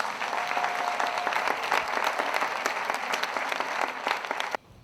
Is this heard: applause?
yes